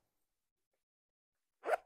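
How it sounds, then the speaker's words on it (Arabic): A double zipper on a lightweight men's shoe gives one quick, close zip right at the end, after near silence. "دبل سحاب روعه"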